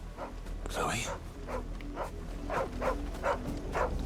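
A dog in Final Fantasy XVI barks repeatedly in a steady series of short yaps, fairly faint, under a low hum with some talking.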